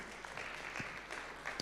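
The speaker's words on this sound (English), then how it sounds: "Let's a round of applause for our political parties." A brief burst of faint, distant applause from the audience at the national launch of a model manifesto for political parties in Kenya.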